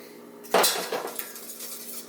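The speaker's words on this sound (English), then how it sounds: "But now we're just going to give this a good old stir." Eggnog being stirred in a bowl, a short sharp clink of utensil on dish followed by a few lighter scraping taps, close and fairly quiet.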